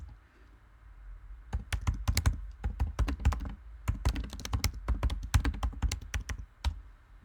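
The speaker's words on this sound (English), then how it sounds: "I can't type this afternoon." Computer keyboard typing while writing code, rapid irregular bursts of clacking keystrokes close to the microphone, pausing briefly midway before resuming, with no speech.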